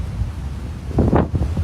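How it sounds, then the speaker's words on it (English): Strong wind gusting straight into an outdoor microphone near the water in winter, a continuous low rumble that swells into louder buffeting bursts toward the end, with no voices. "It's very windy."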